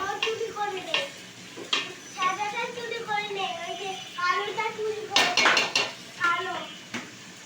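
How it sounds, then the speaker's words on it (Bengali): Pulao rice frying in a pot as a spoon stirs and scrapes against metal in repeated clanks, with a soft sizzle underneath and a person talking over much of it. "এই আর কি পোলাওটা ভেজে নিচ্ছি, হ্যাঁ পোলাওটা ভেজে নিচ্ছি।"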